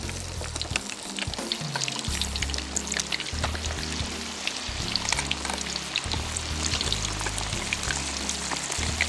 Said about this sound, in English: we'll drop a wing in here and see where we are with the oil temperature